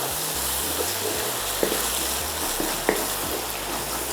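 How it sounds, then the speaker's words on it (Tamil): Water is poured into Schezwan sauce made with chili paste, garlic and ginger in a pan, giving a steady close pouring and bubbling wash with a couple of small splashes, no voices. "இதில் நான் ஒரு அரை கப் கிட்ட தண்ணி சேர்த்துக்கிறேன்."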